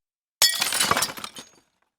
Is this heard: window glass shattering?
yes